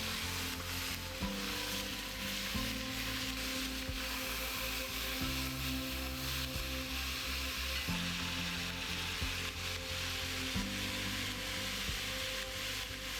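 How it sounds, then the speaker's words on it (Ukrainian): Meat sizzling and frying in hot oil in a cast-iron pot for pilaf, a steady dense crackle with occasional stirring scrapes, loud and continuous with no talk. "М'ясо потрібно підсмажити до рум'яної скоринки."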